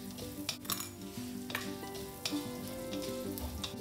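Urad dal and mustard seeds sizzle in a tablespoon of hot oil for a South Indian breakfast, a steady soft frying hiss with a few light pops and clinks of a utensil against the pan.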